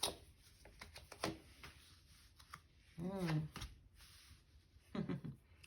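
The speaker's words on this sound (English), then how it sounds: "this card dropped out when I was shuffling" A deck of tarot cards is shuffled in a run of quick riffling and soft slapping bursts, the loudest around the middle and near the end, with quiet talk in between.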